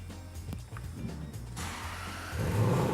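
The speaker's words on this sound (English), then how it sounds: "I think though, Gav, in our long tradition of starting V8s on this show, let's do a proper one." A Range Rover V8 engine cranks and fires up, settling into a low rumble before revving louder and deeper toward the end, heard close to the exhaust.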